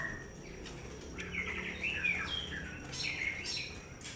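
Magpie robins chirping in a bird-selling setting, bright rising and falling calls and short trills repeating over a steady background hiss, moderately close.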